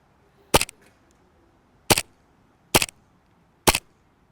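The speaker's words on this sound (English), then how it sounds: "let's do some test shots and see how we get on" An AATV Army Armament R603 airsoft gas pistol fires four sharp test shots, each a crisp pop with a quick mechanical double-crack, spaced about a second apart in a quiet indoor room.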